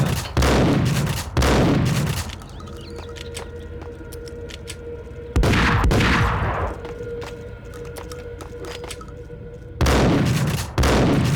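Sawed-off double-barrel shotgun in the Max Payne video game, three loud booming blasts spaced several seconds apart, each with a ringing tail fading into quiet.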